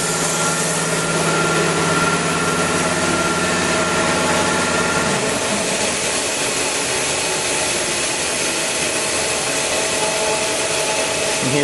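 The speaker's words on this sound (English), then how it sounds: "Sorry about the air compressor running in the background, but that's what drives the little turbocharger." Air compressor running at a pyrolysis plant to drive a small turbocharger, a loud continuous mechanical roar with a humming drone that shifts partway through, steady and close without talk.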